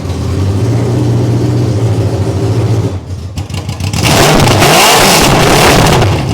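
Truck engine fitted with a very loud custom exhaust, first idling with a steady rumble, then a brief dip before a hard rev that roars up loud and close.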